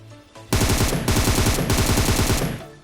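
Gunfire in the mobile game PUBG Mobile: a loud, rapid automatic burst of close shots lasting about two seconds, broken by two tiny gaps, with no talking.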